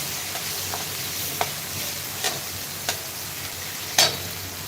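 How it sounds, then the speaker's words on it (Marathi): Poha, flattened rice, is added to a hot pan and stirred, giving a soft steady sizzle with a few sharp scraping clicks of the spoon. The last scrape is the loudest, and no one speaks. "तर आता यामध्ये पोहे टाकून घेत आहे"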